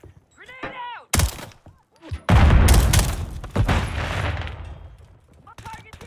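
A grenade detonates in the shooter Call of Duty Modern Warfare 3, a loud close blast with a rolling roar that follows a sharp crack and scattered gunfire, while players talk over it.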